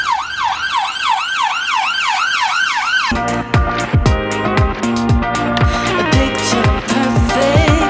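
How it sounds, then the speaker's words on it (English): Loud, close emergency vehicle sirens on a Norbury street: a rapid wailing siren sweeps for a few seconds, then a harsher alternating yelp-and-horn pattern takes over with road noise beneath. "in Norbury, you're always going to hear fire engines, ambulances, and police."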